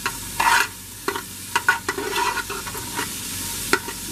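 Onions fry in a big kettle as the base for homemade chili. A soft sizzle sounds close by, and irregular spoon scrapes and clinks break in as the onions are stirred.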